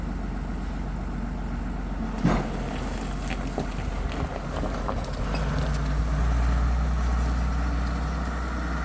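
Tractor-drawn mower driving out across a sheep farm, a steady low engine rumble heard at some distance with wind buffeting the microphone, growing slightly louder and rougher toward the end.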